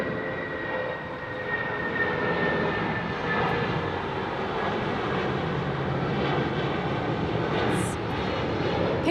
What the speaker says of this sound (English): That's my favorite airlines, Cathay Pacific 777, Ray.